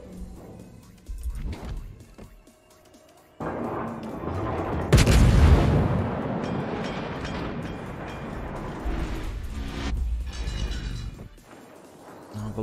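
Heavy naval gunfire from an enemy battleship in World of Warships, a Monty, booming in a loud sustained burst with rumbling shell impacts. Quieter in-game sounds come before and after it.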